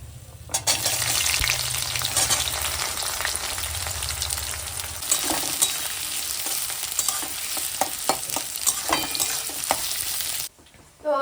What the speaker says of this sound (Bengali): এই দেখো আমার পেঁয়াজ ভাজা হয়ে গেছে